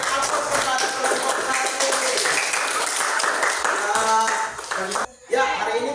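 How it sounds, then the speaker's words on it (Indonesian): A classroom of students applauds a student group, with rapid claps and taps running loud and steady for several seconds before a sudden brief drop, while voices are heard amid the clapping. "kita berikan aplaus kepada kelompok"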